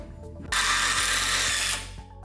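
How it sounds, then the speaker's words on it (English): A power drill whirs loudly and steadily for about a second and a half, driving screws into a wooden aquarium stand frame, then winds down, with faint knocks underneath. "now obviously we're adding screws to make this all just one big structure"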